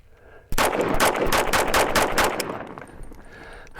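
Rapid burst of gunfire aimed at Safe Life Defense IIIA+ soft backpack armor: a dense string of loud, close shots lasting about two seconds, then a fading echo and a quiet tail.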